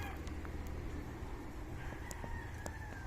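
Rhode Island Red and native chickens cluck and a rooster crows in the background over a steady outdoor farm hum, moderately distant.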